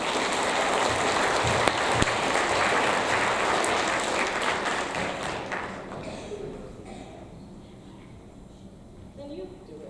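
An audience at a sixth grade awards ceremony claps loudly for several seconds before the applause fades out, leaving a quieter room with some murmuring and a voice.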